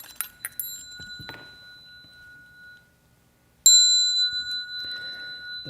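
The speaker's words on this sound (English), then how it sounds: "The bell sound" A small bell is struck twice, each ring a bright clear tone that lingers and fades, preceded by a few quick light taps and clinks, close and alone.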